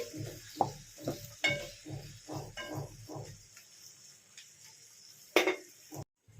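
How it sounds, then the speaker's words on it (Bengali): Chilli chicken stirred in a pan after salt goes in, a rapid run of scraping and clattering utensil strokes at first, then quieter sizzling and one sharp clank near the end, close by with no talk. "দিয়ে আমি একটু নাড়াচাড়া করে নিচ্ছি"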